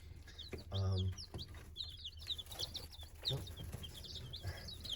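Baby chicks in their first week, still yellow with tiny feathers coming in, peep in quick, high, overlapping chirps throughout, with a louder low burst near the start and soft background rustling.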